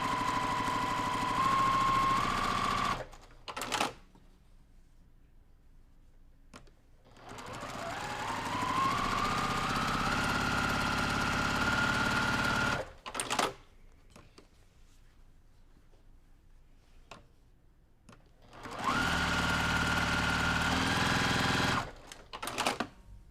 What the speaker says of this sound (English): So now I'm going to just stitch with the open toe foot just straight on that line.